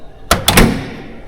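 A door on a restored historical car, a Fiat 124, is swung shut, giving a couple of sharp close thunks followed by a brief rattling settle.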